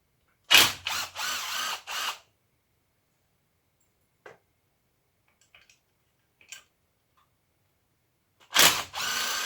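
Power tool rattling off the worn chain guard bolts on a GasGas EC250 dirt bike: two close, loud bursts of buzzing rattle with a quiet gap between them, scattered faint clicks in the gap and no talk.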